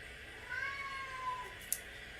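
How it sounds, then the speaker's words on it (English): A hungry house cat meows in a long, drawn-out call, close by and fairly faint against a steady background hiss, with a brief sharp tick near the end. "give this cat something to tide him over, or he's not going to stop."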